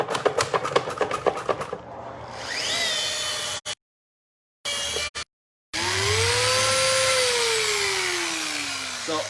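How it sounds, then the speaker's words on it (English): A Lake Country System 3000D pad washer cleans a polishing pad: rapid rhythmic pulsing gives way to a loud, rising mechanical whine, broken by brief cutoffs before the motor drones on. "a pad that we've gone through our Lake Country System 3000D pad washer"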